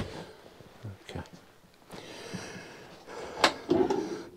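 A tiny cutlery drawer in a new family motorhome slides open or shut with a few short, close knocks and rattles amid quiet room noise.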